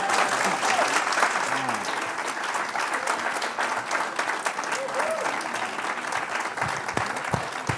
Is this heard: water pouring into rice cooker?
no